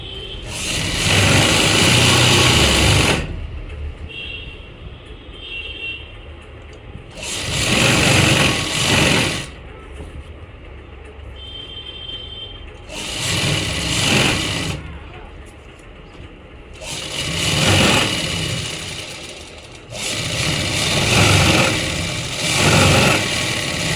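A sewing machine stitches a double seam on palazzo trousers at home, running in four or five steady, loud bursts with short pauses between them.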